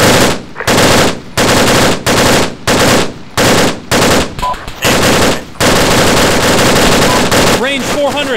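Machine gun fire in the shooter game Arma 3 rips out in loud, close bursts, about eight short volleys with brief gaps, then one long continuous stream of rapid shots.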